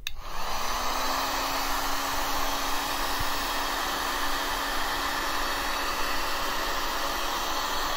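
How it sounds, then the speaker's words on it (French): A heat gun blows steadily on vinyl covering a mini pinball cabinet, a loud continuous airy roar with a faint whine that settles after start-up and holds constant throughout. "Je me mets au décapeur thermique."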